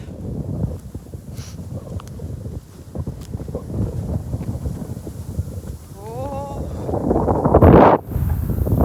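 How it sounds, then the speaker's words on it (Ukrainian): Heavy wind buffets the microphone with low rumbling gusts beside the Dnipro River, mixed with a voice speaking and a sharp burst of wind noise near the end. "Вітер просто, можливо, мене і не чути, вітер страшний."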